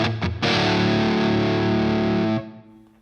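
An Enya Nova Go Sonic guitar with its built-in reverb switched on rings out as a sustained, effect-heavy chord after a couple of quick plucks, holding steady and loud before the reverb tail fades away.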